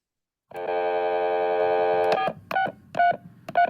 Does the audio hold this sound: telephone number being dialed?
yes